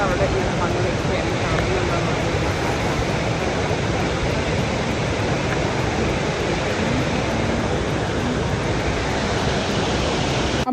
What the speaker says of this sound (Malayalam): നമ്മളിവിടെ വെള്ളച്ചാട്ടത്തിൻ്റെ അവിടെ